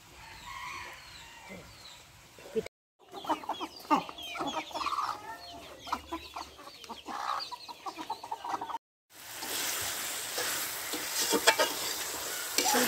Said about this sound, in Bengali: একটা মুরগি দুইটা মুরগি, একটা মোরগ আছে তোয়ামনির পালের মোরগ